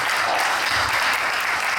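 Loud, dense audience applause filling the hall steadily, thanking contributors at the close of a dance performance series, with no voices over it.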